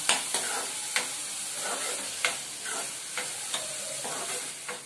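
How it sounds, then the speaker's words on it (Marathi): Onion frying in a pan with crushed garlic and ginger, a steady bright sizzle with occasional spoon scrapes and clinks while it is stirred, close by and with no talk. "4 लसूण घेतलेत आणि थोडंसं आलं घेतलंय ठेचून, ते टाकलं. चांगलं आपल्याला लाल करून घ्यायचंय कांदा"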